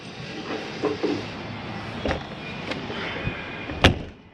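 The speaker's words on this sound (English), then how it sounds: "Grab your handle, set your door in." Exterior door of a Jayco Eagle HT 29.5BHDS fifth-wheel RV being set in and closed, a few soft knocks and rattles followed by a sharp latching clack near the end, close and fairly loud.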